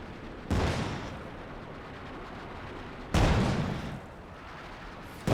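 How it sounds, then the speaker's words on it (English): M8 Scott howitzer firing in Company of Heroes 2, two heavy booming shots a few seconds apart, each with a rumbling decay, over a steady battlefield background. "It's the Scot firing there."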